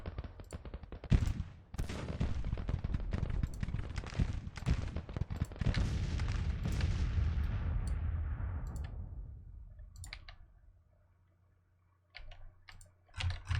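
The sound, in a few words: musket volley gunfire in video game Grand Tactician: The Civil War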